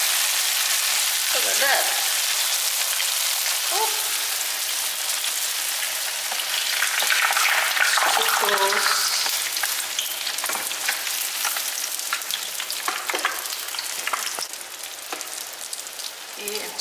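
Spring rolls filled with mixed berries fry in hot oil, a steady close sizzle with bubbling crackle that holds through the whole stretch, swelling as the rolls are moved, while a voice speaks briefly.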